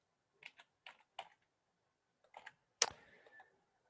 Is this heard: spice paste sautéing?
no